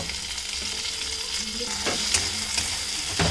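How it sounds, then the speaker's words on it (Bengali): Chopped tomatoes frying in a pan with garlic, onion and spices for a spiced eel curry, a steady close sizzle with a few sharp stirring scrapes and clinks, no voices. "একটু হালকা লবণ দিয়ে টমেটোটাকে একটু হালকা করে ভেজে নিতে হবে মশলার সাথে।"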